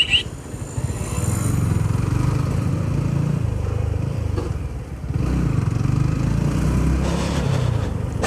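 A Yamaha R15 v3 motorcycle's engine drones steadily and loudly while riding, with a brief dip near the middle before it picks up again, rough and close throughout with no talking.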